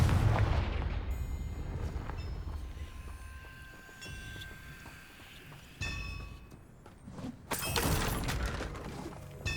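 A Confringo fire-blast spell from the video game Hogwarts Legacy, heard as loud bursting impacts with crackling, shattering debris and a dense rumbling tail. No one speaks.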